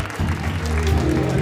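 Audience at a school alumni meet at JNV Laduna, Mandsaur, claps in a dense burst of applause, the crowd's clapping building and holding steady throughout.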